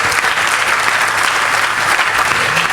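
Audience clapping at a Hindi comedy poetry recital (kavi sammelan) in a society hall, dense and steady throughout, close and fairly loud with no voices over it.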